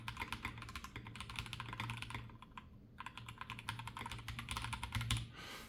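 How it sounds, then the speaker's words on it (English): Typing on an AKKO 5075B gaming keyboard: a steady stream of quick, close clacking keystrokes in irregular bursts, with a brief lull midway, heard alone without speech over a faint low hum. "And the typing experience on this is really good."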